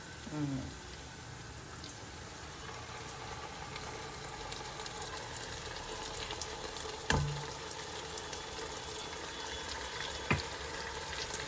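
Tomato puree frying and sizzling in oil in a pan while being stirred for tomato rice, a steady soft crackle with occasional scraping knocks from the spoon.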